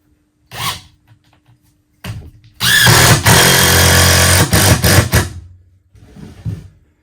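An electric drill whirs loudly in a few bursts into maple wood, including one long sustained run, with short squeals and pauses between them, close up.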